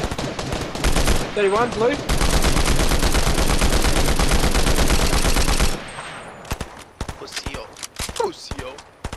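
Combat rifle gunfire in the video game Fortnite, a loud rapid burst of automatic shots lasting several seconds, then sparser scattered shots, with players talking over the action.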